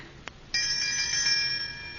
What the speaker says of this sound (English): This must be the doorbell.